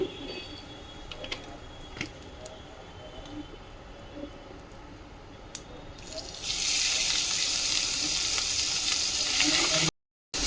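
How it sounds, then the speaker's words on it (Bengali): Whole cumin and asafoetida hit hot oil in a pan, and a loud, steady sizzle swells up after a few quiet seconds with faint clinks and stirring, then continues close and constant to the end. "আর দিয়ে দিচ্ছি গোটা জিরে, একটু হিং দিয়ে দিচ্ছি"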